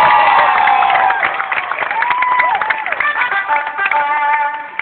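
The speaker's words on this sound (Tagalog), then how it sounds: "Palakpakan natin yung ating magagaling" A large crowd at a Jose and Wally comedy concert at Malolos Sports Complex bursts into loud applause and cheering that starts strong, then holds as a busy wash of clapping and shouts.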